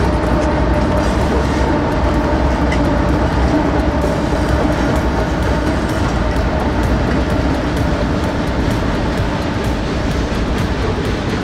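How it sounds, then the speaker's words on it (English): Loud, continuous rumble and clatter of a container train rolling along rails close by, with a steady rhythmic clacking of wheels throughout. "Container train is a high-capacity railway vehicle that is used to transport containers of goods"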